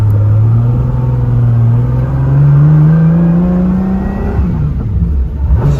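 A Toyota Supra sleeper build with a stock transmission accelerates on the road, its engine note climbing steadily in pitch as a loud, continuous drone close by, with no voices.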